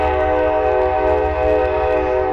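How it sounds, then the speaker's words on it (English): A train whistle blows across a river in one steady, loud, sustained tone with rich harmonics, held throughout without a break. "as the train blows its whistle like crazy across the river"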